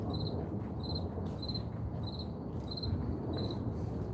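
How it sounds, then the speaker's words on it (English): Crickets chirping at night outdoors, a steady repeating pulse of high trills about twice a second over a constant low background hum. "I'm gonna go stomp on these crickets."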